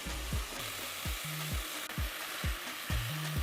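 Onions, tomato and peppers fry in oil for a spaghetti bolognese sauce, a steady loud sizzle with rhythmic scraping as the pan is stirred.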